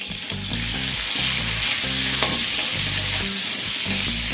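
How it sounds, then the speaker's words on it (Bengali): Pointed gourd (potol) seasoned with salt and turmeric frying in hot oil, a steady loud sizzle running throughout, with a low tonal hum underneath and no voices. "পটলগুলোকে এবার ভেজে তুলে নেব"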